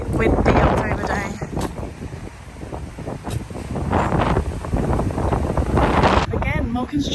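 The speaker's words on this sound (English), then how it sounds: "Sorry, it is windy, I hope you can hear me." Heavy wind on a windy October day in Canterbury buffets the microphone in rough, roaring gusts that rise and fall throughout, with a voice talking underneath.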